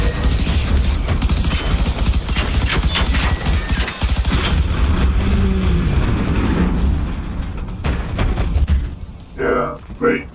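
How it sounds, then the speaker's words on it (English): Rapid rattling gunfire in the video game Generation Zero, dense bursts of clattering shots mixed with booms and mechanical noise, thinning out near the end as a voice speaks over it. "stop shooting at me"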